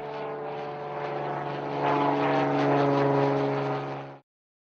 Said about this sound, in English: Here is a modern US Navy single-engine Skymaster with a multi-spectral targeting system.